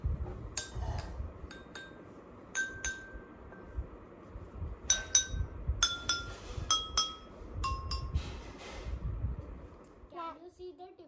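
Glasses holding different levels of water are struck one by one, giving a series of bright ringing clinks at varied pitches, with children talking softly in the background.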